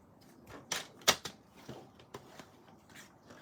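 Paper being scored on a trimmer for little treat boxes, a few soft close scraping strokes and light taps, with one sharper stroke standing out in an otherwise quiet room.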